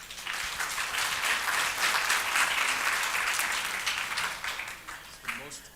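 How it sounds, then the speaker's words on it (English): Sustained audience applause for panelists at a university community engagement conference, dense clapping that swells and holds at a steady level, then tapers near the end as a voice begins. "Can I please ask a round of applause for the panelists?"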